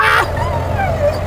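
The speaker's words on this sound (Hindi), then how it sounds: "गाड़ी के अंदर से जोर जोर से भौंक रहा होता है" A dog confined inside a car gives a short, sharp yelp or bark at the start, then low whimpering whines over a steady road rumble.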